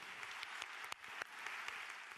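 A church congregation applauds, a dense, steady wash of many hands clapping with a few sharper claps standing out, fairly faint and distant throughout a short burst.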